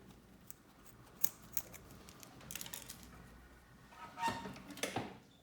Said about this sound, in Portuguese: podemos cortar os excessos aqui de zíper